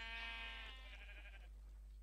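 A Minecraft sheep on a wool farm bleats once, a clear, drawn-out nasal cry lasting over a second that fades out, close and fairly loud over a steady low hum.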